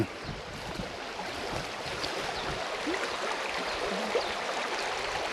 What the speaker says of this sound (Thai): นี่จะเป็นลำธาร